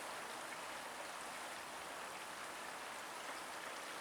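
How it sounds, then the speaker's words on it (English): A shallow, unnavigable river rushes below a bridge beside the Chesterfield Canal near Tapton Lock, a steady broadband hiss of flowing water heard from a distance, faint and unbroken throughout. "Down there is the river, just past the bridge."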